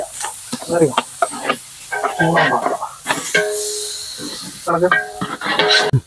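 Ginger garlic paste added to a large pot of mutton biryani masala, frying with a hiss while it is scraped and stirred, the sizzle running under people talking nearby.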